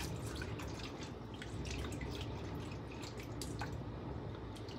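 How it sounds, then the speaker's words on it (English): Water splashing and dripping in a pot as sago pearls (sabudana) are rinsed, a steady close wet patter with small drips throughout, no talking. "So I transferred this sabudana or sago in this pot, and simply we have to wash it nice and clean."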